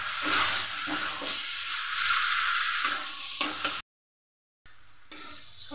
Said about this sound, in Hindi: इसके बाद छोले को डाल देंगे छोले को अच्छी तरह से भून लेंगे